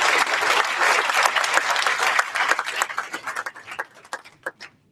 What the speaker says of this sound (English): Let's give a round of applause for all the faculty who have worked on these.